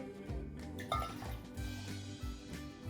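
Water poured into a half-cup measuring cup, light gurgling and splashing with a few small clinks, quiet and close, no talk.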